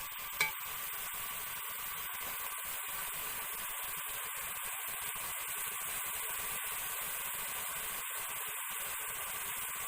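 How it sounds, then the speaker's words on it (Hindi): Spinach sautéing in a pan for palak kadhi, giving a steady soft sizzle and faint stirring scrapes that run through the whole stretch at an even level with no talk. "अब मैंने पालक को थोड़ी देर भून लिया।"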